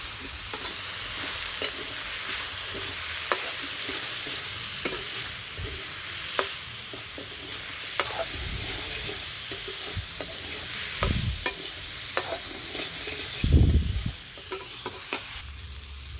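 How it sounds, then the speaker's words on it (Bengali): Vegetables with salt, turmeric and green chili fry in a pan, keeping up a constant sizzle while a spatula stirs them with repeated scraping knocks and a louder clatter near the end, without speech. "সবজিগুলো একটু ভেজে নিলাম"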